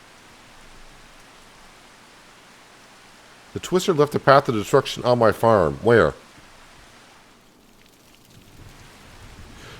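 Steady soft hiss of rain in the farming game Farming Simulator 25, a constant faint wash through the whole stretch, with someone talking over it partway through.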